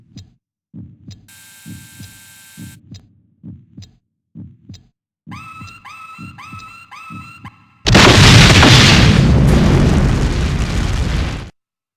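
In the PS1 game Suzuki Bakuhatsu, a bomb detonator goes off as a loud, roaring explosion that sustains for several seconds, following a stretch of rhythmic heartbeat-like thumps and electronic beeping tones.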